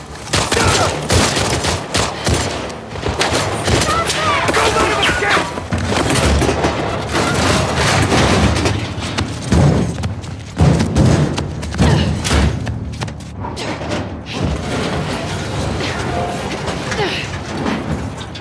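Dense gunfire from The Last of Us Part II on Scar Island, with heavy booming shots and thuds bursting steadily for the whole stretch, loud and close, with voices talking among the shooting.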